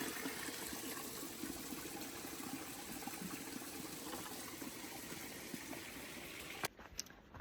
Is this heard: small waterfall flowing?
yes